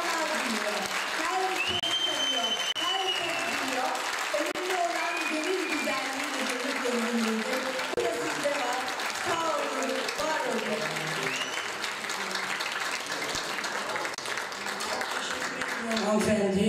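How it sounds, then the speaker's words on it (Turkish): Sustained audience applause fills a concert hall at a Turkish classical music concert, dense and steady throughout with faint voices mixed underneath. "Lütfen bir alkışlayın."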